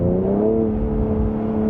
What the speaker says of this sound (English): in manual mode, it actually does really well with upshifts